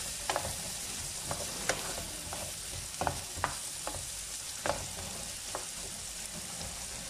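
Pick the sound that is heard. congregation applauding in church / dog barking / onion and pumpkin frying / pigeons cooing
onion and pumpkin frying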